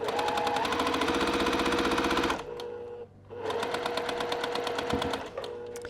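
A sewing machine stitches quilt fabric with a fast, steady mechanical chatter close by. It stops briefly partway through, then starts up again.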